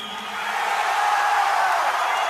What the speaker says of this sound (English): Yes, and the crowd screams